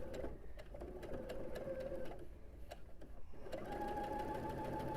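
A sewing machine stitches a pieced quilt block using a quarter-inch presser foot, its motor humming in a steady, close, continuous run that pauses briefly partway through before picking back up.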